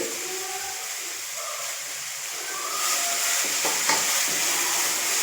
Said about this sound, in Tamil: வெங்காயம் நல்லா வதங்கி இருக்குது